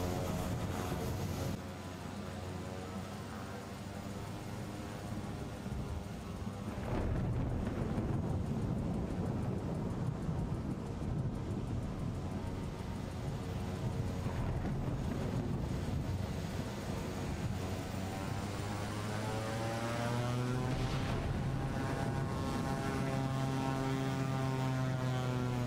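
A single-engine MilViz PC-6 Porter propeller plane in Microsoft Flight Simulator drones steadily as it takes off, its engine hum swelling a little partway through and holding loud and continuous throughout.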